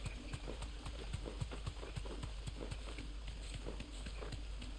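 Rhythmic hoof clip-clop of a mount running in Final Fantasy 16, steady and fairly close over a low ambient hum.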